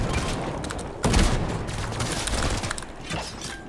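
Rapid bursts of gunfire in a Fortnite duo cash cup match fill the scene, with a sharp loud burst around one second and dense repeated shots continuing throughout, no talk over them.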